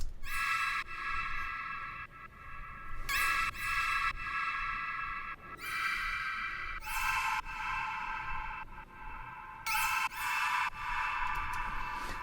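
Synthesizer chords built in FL Studio for a future bass drop ring out as about five bright sustained chord stabs separated by short gaps, played alone with no talking.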